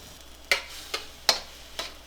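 Something being stirred and scraped in a pan, four sharp, evenly spaced strokes spread across the moment over a quiet background, close and moderately loud, with no speech.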